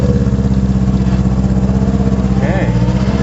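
A 1974 MG Midget engine with a sticky throttle runs loudly and steadily near the microphone at a fast idle, its pitch rising briefly in a short rev toward the end.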